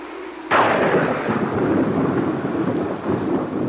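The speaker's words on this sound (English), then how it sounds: "Looks like a storm, Lieutenant." A loud thunderclap from a storm bursts in suddenly and then rolls on as a long, sustained rumble that fades only slightly, with no voices.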